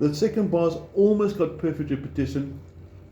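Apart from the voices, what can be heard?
None of the usual background noises is heard.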